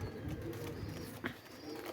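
A rulla pigeon coos softly in a loft setting, a low, faint murmuring call with one brief sharper sound midway, heard alone over a soft ambient background.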